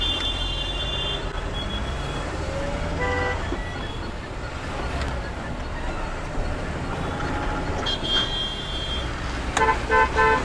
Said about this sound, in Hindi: मुजफ्फरनगर का ट्रैफिक